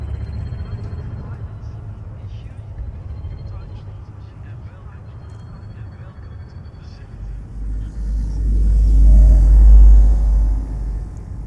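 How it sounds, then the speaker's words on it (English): Spaceship engines engaging in the video game Elite Dangerous, a low steady rumble that swells into a loud deep roar partway through, under a voice. "Ship released. Engines engaged."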